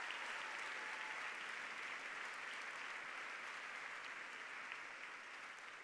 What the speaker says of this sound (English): give yourselves a round of applause for making history as well